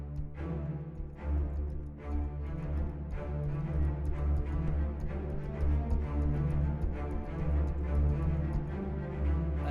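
Albion V string ensemble playing short articulations, a sustained run of full, dense string notes with rhythmic accents throughout, fairly loud and close, no voices.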